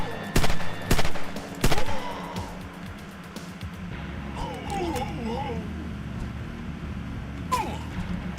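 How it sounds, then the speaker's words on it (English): Gunfire in a video game: three sharp, loud shots in quick succession, then a long lull over a low ambient rumble before one more crack near the end. "somebody's shooting at me in a distance"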